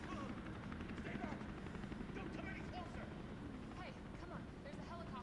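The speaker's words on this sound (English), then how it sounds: "There's a helicopter waiting to take you to safety." Helicopter in the Resident Evil 3 video game, a steady rotor and engine drone running continuously at moderate level beneath talk and game sounds.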